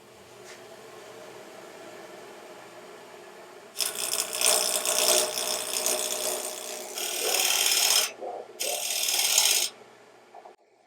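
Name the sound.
woodturning with a square carbide tool or spindle roughing gouge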